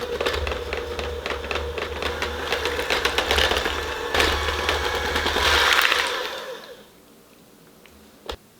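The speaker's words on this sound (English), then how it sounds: "or you can use your beater." An electric beater whirs steadily through pancake batter for about six seconds, a close, buzzing motor drone, then shuts off, leaving near silence and one brief knock.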